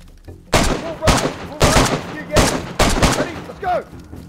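Gunshots in the survival game DayZ, six loud booming reports in an uneven rhythm close by, each ringing out briefly with a faint voice underneath.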